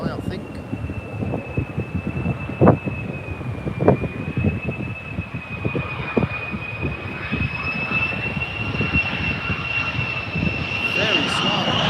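A military jet landing at RAF Lakenheath makes a loud, sustained engine whine with a steady high tone, mixed with gusty wind rumble on the microphone and occasional spoken voices nearby.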